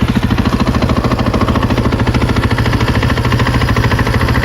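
Motorcycles idle together while warming up before a day's group ride. A loud, steady, close engine rumble with a fast, even pulsing beat runs unbroken throughout.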